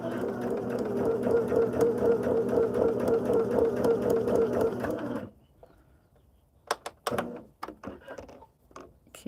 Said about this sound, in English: we're going to sew these two pieces together to make half of a block